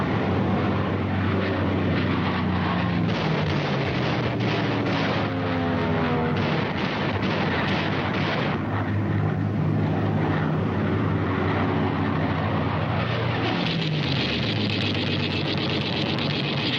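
American P-40 fighter planes of the Second World War in flight over the Pacific, a loud, continuous engine roar and drone lasting throughout, with pitch shifts as aircraft pass and dense noise suggesting distant gunfire or explosions mixed in.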